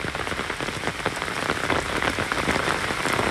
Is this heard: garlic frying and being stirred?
no